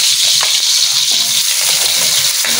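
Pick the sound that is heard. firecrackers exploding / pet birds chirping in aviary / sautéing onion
sautéing onion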